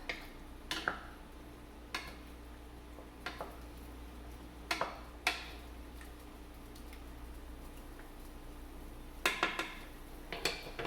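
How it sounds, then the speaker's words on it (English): Tomato sauce stirred in a pot, giving scattered sharp clinks and taps of a utensil against the metal over a quiet hum, irregular and moderately close. "I'm gonna stir this up."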